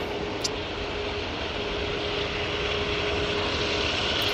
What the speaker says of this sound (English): And there goes the Jet2 320